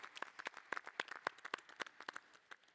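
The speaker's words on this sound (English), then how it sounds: "Let's give a big round of applause to our panelists." At the close of a plenary leadership panel at an Internet Governance Forum conference, the audience applauds the panelists. The clapping is scattered and distinct, moderately faint, with no talking over it.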